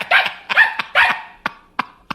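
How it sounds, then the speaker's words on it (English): A dog barks in the background in short sharp bursts, several quick yaps in succession followed by a few single barks spaced out, fairly loud and with no voices over it. "Dog in the background."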